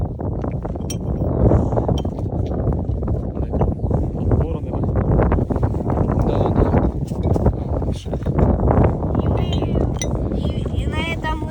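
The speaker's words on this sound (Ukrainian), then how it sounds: "на вулиці досить сильний вітер" Strong wind buffets the microphone throughout in a steady low roar while metal detecting in a field, with faint clinks and movement sounds scattered on top.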